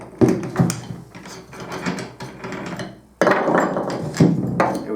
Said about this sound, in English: So I'm going to take the blade out and show you.